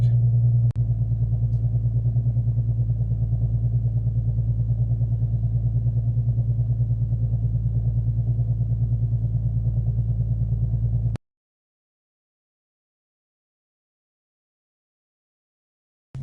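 Infiniti Q50 with an axle-back muffler delete idling just above 1,000 rpm, a deep steady exhaust drone that is loud and constant for about eleven seconds, then cuts to silence.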